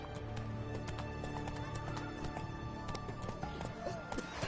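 Roach the horse galloping in The Witcher 3, quick hoofbeats thudding under busy game ambience and scattered voices, fairly faint overall.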